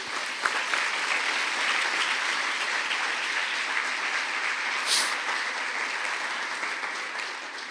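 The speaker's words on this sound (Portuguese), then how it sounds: "Vamos aplaudir a Jesus." A church congregation gathered for a prophetic ministry seminar applauds in an even, continuous roar of clapping, with a brief high whistle or cheer cutting through midway.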